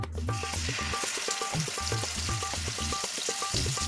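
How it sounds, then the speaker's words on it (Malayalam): Fish frying in hot oil in a frying pan, a close, steady crackling sizzle with rhythmic popping and spattering throughout the short stretch. "ഫ്രൈ പാൻ അടുപ്പത്ത് വെച്ച് അതിന് ആവശ്യത്തിനുള്ള എണ്ണ അഴിച്ചിട്ടുണ്ട് ഇനി നമുക്ക് ഈ ഫിഷ് എടുത്തിനകത്ത് ഇട്ട് കൊടുക്കാം"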